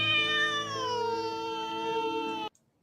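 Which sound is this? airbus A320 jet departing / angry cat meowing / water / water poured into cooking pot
angry cat meowing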